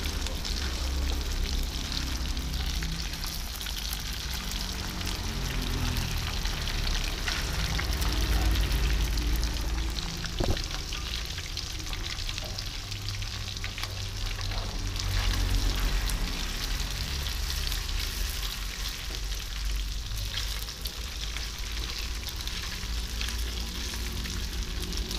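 Fish fries in a pan over a stove flame, giving a steady, close sizzle and crackle that runs unbroken throughout with no talking.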